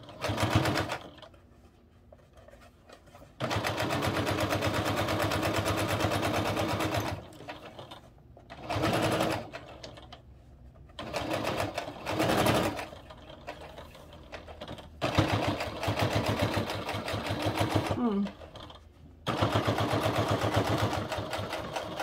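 A sewing machine stitches a travel cord organizer in repeated bursts of fast, even whirring, some long and some brief, separated by quiet pauses, with no voices heard.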